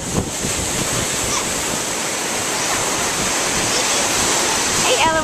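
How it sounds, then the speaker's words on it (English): Ocean surf washes in a continuous broad roar with steady wind noise against the microphone, loud and close, with faint voices underneath. "The big old ocean."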